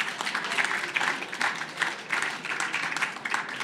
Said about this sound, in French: Je crois qu'on peut l'applaudir quand même.